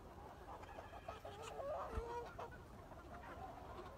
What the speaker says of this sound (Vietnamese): Gà mái đẹp là tuyệt vời luôn.